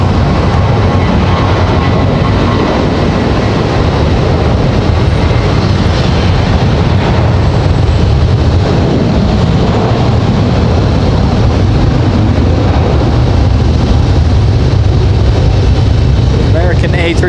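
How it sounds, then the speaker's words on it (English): American Airlines A321 jet taking off at Raleigh-Durham International Airport, a loud, steady broadband engine roar that holds throughout, with a voice talking over it. "American A321 off and rolling."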